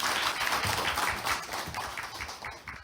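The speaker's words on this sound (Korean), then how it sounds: "박수 부탁드립니다." Studio audience at a televised social crowdfunding competition gives a brief round of applause, dense clapping that fades over a few seconds.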